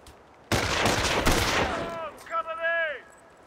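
Machine gun fire in Company of Heroes, a dense rattling burst lasting over a second, loud and close, followed by tonal whistling and echoing battlefield effects.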